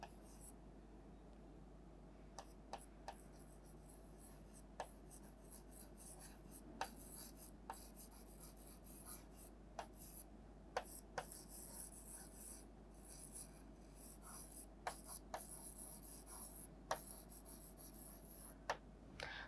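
A pen scratches and taps faintly on paper while IUPAC names are written out in a chemistry lesson, with soft short strokes and light clicks spread irregularly over a quiet room hum.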